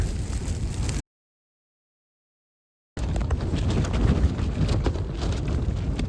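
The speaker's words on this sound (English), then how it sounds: "Well, so much for it not being windy." Gusty wind buffets the microphone in the Scottish mountains with rough low rumble, cutting out for a couple of seconds before returning strong and steady.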